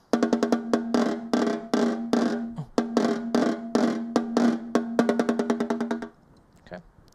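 Snare drum playing a short passage of detached rolls and accented strokes, crisp and close, in a steady rhythm for about six seconds before stopping, followed by a faint quiet tail.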